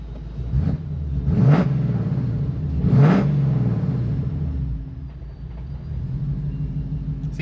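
A Coyote-swapped 2006 Ford Mustang engine is blipped twice in sharp revs, then sags to an uneven, rough idle that nearly stalls, loud and close with no talk.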